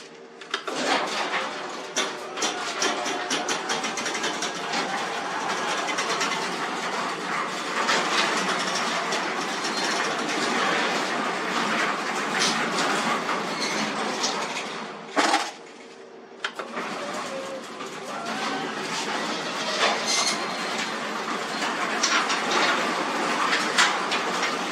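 Residential garage door moving on worn, noisy rollers, a continuous loud rattling and clattering rumble that pauses briefly midway before resuming for a long run.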